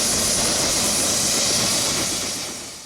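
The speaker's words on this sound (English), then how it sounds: "We took a quick 15-minute helicopter ride over Victoria Falls." Helicopter flying over Victoria Falls, its broad rotor and engine roar loud and steady throughout, easing slightly toward the end with no voices.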